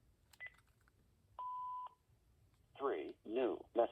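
A few short electronic beeps and a steady tone sound close by, followed by an automated voice speaking.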